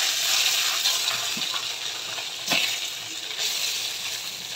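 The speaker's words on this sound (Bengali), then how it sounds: "এই মাছটি যে কড়াইয়ে হালকা পরিমাণ তেল দিয়েছি, তেল দিয়ে সরব সরব করে তেলের মধ্যে ছেড়ে দিতেছি" Fish slid into a wok with a small amount of hot oil, giving a steady close sizzle and crackle with a brief louder spatter midway.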